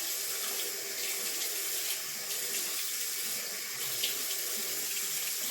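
Water runs steadily from a bathroom tap into a sink while makeup is washed off, a constant close hiss with no pauses and no talking.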